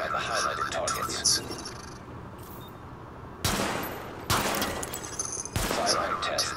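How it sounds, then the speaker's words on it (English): Bursts of gunfire from a firearm test at highlighted targets in The Division, a third-person shooter game, crack out in several sharp volleys separated by quieter stretches, with voices talking in between. "Open fire at the highlighted targets."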